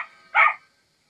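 A dog in the video game Fallout Shelter gives a single short, sharp bark, clear and close, followed by silence.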